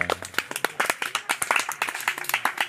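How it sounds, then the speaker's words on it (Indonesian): Students clap their hands outdoors in a fast, uneven burst of sharp, close claps lasting a few seconds, with a few voices mixed in. "Sekarang tepuk tangan dulu semua."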